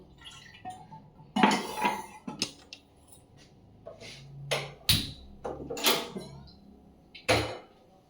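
Cups and a spoon clink in a home kitchen while coffee is made: a handful of sharp, bright taps and clatters spaced out over several seconds, close by, with no talking.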